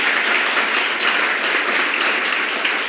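A crowd applauds the organising committee at a youth gathering, dense steady clapping filling the space evenly for a few seconds with no voices over it.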